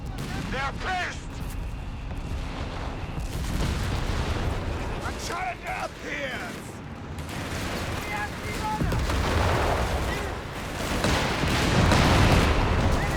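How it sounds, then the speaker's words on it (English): Twin anti-tank guns fire during a Company of Heroes 3 battle, heavy booms and crackling gunfire rolling continuously through the scene while a commentator talks over the din. "Double AT guns here, causing some trouble."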